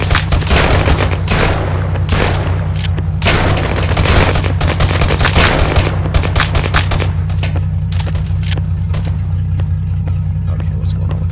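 Rapid rifle gunfire rattles continuously in the Firezone VR game on Meta Quest 2, dense bursts of shots over a steady low vehicle engine drone, loud and close throughout.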